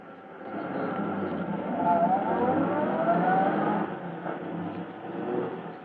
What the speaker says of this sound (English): as Polecat and Scrubby in their fast car escape from the scene,